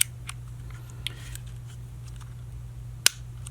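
A single sharp metallic click of a Ruger LC Carbine hammer rings out near the end, after a faint earlier tick or two, over a steady low hum in an otherwise quiet room.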